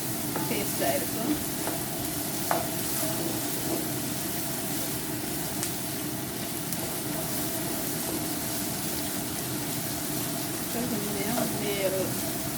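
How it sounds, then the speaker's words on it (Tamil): Onion and carrot stir-fry lightly in oil over a medium flame for uppuma, producing an even, continuous sizzle with faint scrapes and taps from stirring. "ஆனியன் கேரட் எல்லாம் சேர்த்து மிக்ஸ் ஆகும். லைட்லி ஆயிலோடு சேர்த்து ஃப்ரை ஆகினா டேஸ்ட்டாக இருக்கும்."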